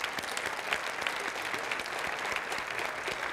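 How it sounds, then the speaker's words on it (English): An audience at an evening lecture applauds the teachers present, sustained clapping from many hands at moderate level, even and unbroken, with a few louder individual claps standing out. "So to the teachers who are here tonight, can we applaud for them?"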